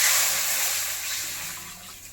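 Water is poured from a small metal pot into a kadai set on the stove while banana blossom fritters are being made. It makes a steady, close rushing pour that lasts about two seconds and tapers off slightly.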